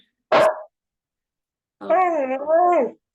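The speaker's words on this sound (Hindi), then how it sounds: "ये किसका कुत्ता भौंक रहा" A dog barking nearby indoors, one sharp short bark followed by a longer, wavering whine-like bark, both loud and clear against silence.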